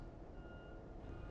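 Truck reversing beeps from a nearby construction site, a steady thin tone sounding continuously behind a constant low rumble of heavy machinery, fairly faint and distant.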